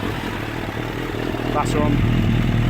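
A Suzuki Bandit 1200 motorcycle fitted with a Black Widow exhaust idles with a low, steady rumble that grows a little louder partway through, with a brief spoken word over it.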